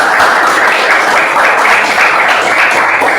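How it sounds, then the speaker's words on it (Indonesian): A classroom of students applauds after being called on by their teacher, steady dense clapping filling the room at close range without pause. "silakan berikan aplaus buat kalian"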